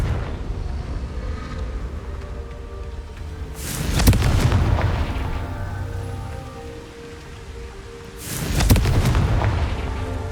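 Two booming fire-spell explosions from the Hogwarts Legacy video game, each a sharp blast with a rumbling decay, heard over a steady rain-like background hiss.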